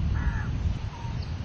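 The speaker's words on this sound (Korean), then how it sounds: "지금 바람하고 이 다양한 새들 새소리하고" Crows caw loudly and close by a lake in Sri Lanka, several harsh calls in quick succession over a steady low wind rumble.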